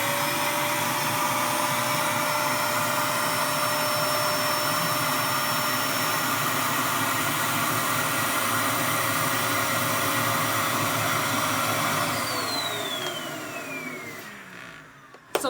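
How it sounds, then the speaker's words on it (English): A vacuum hose pulls air out of an extra large storage bag packed with fleeces and crochet blankets, a loud, steady close-up whine and rush. Near the end the pitch sweeps lower, then the noise fades to a stop. "just going to pop the top, put the vacuum on"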